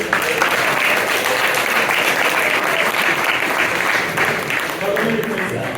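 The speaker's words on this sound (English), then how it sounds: "Another round of applause for all the winners today." Loud, dense audience applause at a startup pitch competition celebrating the winners, steady for several seconds with overlapping claps and some voices mixed in.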